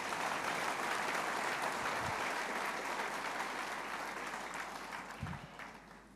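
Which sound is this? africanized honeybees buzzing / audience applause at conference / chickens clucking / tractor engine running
audience applause at conference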